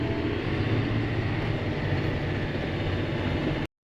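A tractor engine in a farming video game drones at a loud, steady throttle with a dense, rumbling mechanical hum, then cuts off suddenly.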